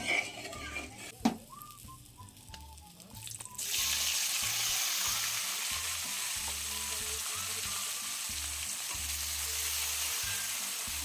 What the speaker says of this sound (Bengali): আর যেই সময় চিনিটা দেবো একদম লো ফ্লেম করে আমি এটাকে অনবরত নাড়াচাড়া করবো